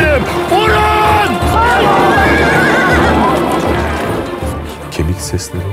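Horses neigh and whinny repeatedly on a film set during a staged battle scene, with hoofbeats clopping, loud and close among general commotion and shouting voices.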